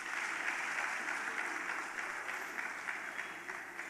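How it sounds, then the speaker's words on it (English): An audience at a senior nursing and midwifery managers conference gives steady, sustained applause for a speaker, heard as a dense, even wash of clapping from many hands in a hall. "Please let's give her a round of applause."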